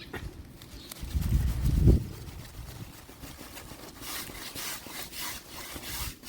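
Hibiscus plant stem is cut for grafting, with a close rough rasping cut that swells and ends abruptly, followed by faint rustling and scraping.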